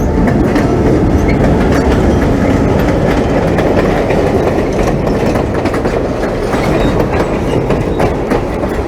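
A diesel train rolls through Lehigh Gorge, its wheels clattering in a loud, close, continuous clickety-clack with a rumbling engine underneath.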